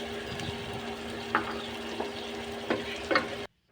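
Spice paste for egg khichdi fries steadily in a pan, a continuous close sizzle broken by several sharp scraping stirs, ending abruptly in silence.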